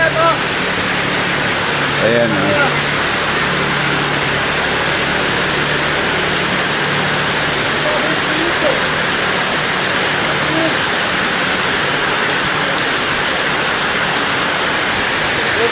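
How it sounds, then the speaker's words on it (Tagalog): Heavy rain pours down steadily in a dense, continuous roar outdoors, loud and unbroken throughout, with someone speaking briefly over it now and then. "grabe talaga ang ulan"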